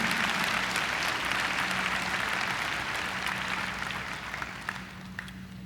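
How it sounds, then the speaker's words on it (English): A crowd at a high school graduation ceremony applauds for retiring school district staff, a dense steady wash of clapping that stays full and close before gradually thinning out toward the end. "How about a round of applause for our retirees?"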